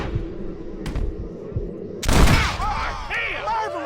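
A gunshot in Red Dead Redemption, one sharp loud crack at about the midpoint with a fainter earlier pop, set against low ambient rumble, with voices speaking afterward.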